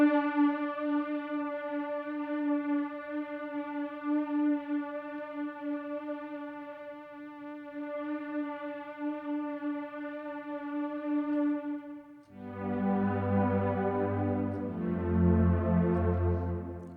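A synthesizer plays sustained tones through a fully wet chorused reverb set to low rate and high depth, holding a wavering note before shifting to a thicker, lower chord near the end.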